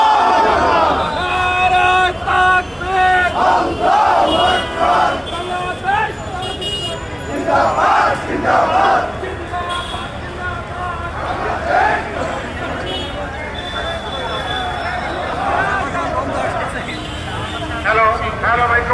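Volunteers chant slogans at a street rally in Shahbag, Dhaka: a loud, dense crowd of voices rising in rhythmic surges, with car horns sounding through the din.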